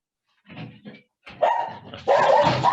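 A dog barking indoors during a conversation, with a few short woofs and whimpers followed by louder, sustained barking close by, heard alone without talk.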